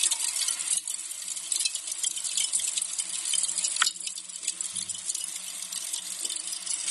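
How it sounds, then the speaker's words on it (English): Lumpwood charcoal in its secondary burn, with deep orange glowing embers, gives a steady, close hiss full of fine crackles and tiny ticking pops, with a sharper snap near the middle and no talk. "this is the sound of lumpwood charcoal after it's done the initial burn"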